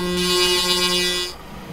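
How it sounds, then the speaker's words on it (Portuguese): A truck horn sounds in Euro Truck Simulator 2 with a Randon tipper trailer, one loud, sustained air-horn blast with a steady harmonic tone that cuts off abruptly, leaving faint engine rumble. "Uma buzina."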